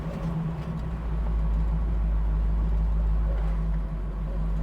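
A 1967 Chevy Camaro RS under way, its engine a steady low rumble with road noise filling the cabin, continuous and fairly loud with no clear break for a gear change.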